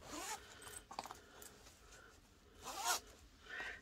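Zippers on the little pockets of a Tiny Tote being pulled open, several quick rasping zips in succession, close and clear with no talking.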